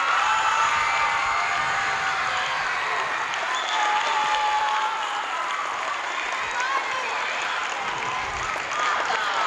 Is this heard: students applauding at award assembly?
yes